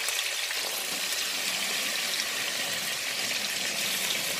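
Chicken pieces (ayam goreng) fry in hot oil with a steady, loud, close sizzle and crackle that runs without a break, and no voices over it.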